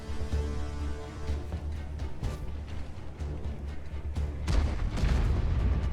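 Heavy booming gunfire from a DBV-152 tank in a video game, several deep blasts over a constant low rumble, loud and close throughout.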